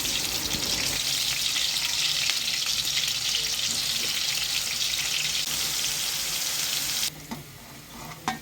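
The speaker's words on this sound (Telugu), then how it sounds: "కొంచెం పన్నీరు ఫ్రై చేయాలి గోల్డెన్ కలర్ వచ్చే వరకు" Paneer cubes frying in a couple of ladles of oil until golden, a steady dense sizzle throughout, close and loud with no talk, easing briefly near the end as pieces are moved.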